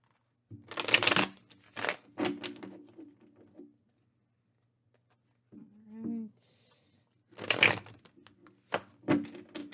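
Two bursts of tarot card shuffling, a riffle then another riffle later, with quieter fiddling and a brief pause in between; no talking.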